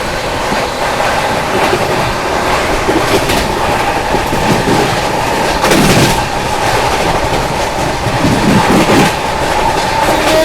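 Seemanchal Express rolling through Chunar Junction without stopping, a steady loud rumble of wheels with rhythmic clickety-clack over rail joints and faint squeal, continuous and close for the whole stretch.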